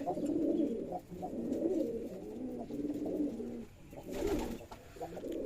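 Male pigeons coo in soft repeated rolling calls, several birds close by, with a brief rustle or flutter near the end as two of them fight.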